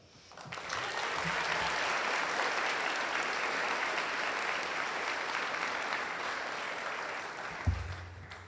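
An audience claps steadily at a middle school Veterans Day celebration in Long Beach to welcome Captain Anna Franco, a broad sustained round of applause that rises quickly, holds for several seconds and then fades.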